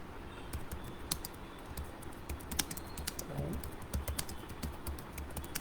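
Steady typing on a computer keyboard, a run of close, quick key clicks with a few sharper taps, continuing throughout at moderate level.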